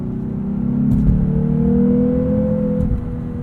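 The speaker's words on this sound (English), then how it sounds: "there's just a little bit of piped in engine note with the V6" A 2022 Lexus RC 350 F Sport AWD with a V6 in sport mode hums steadily from the cabin, a low engine drone rising slightly in pitch as it pulls, with no talking.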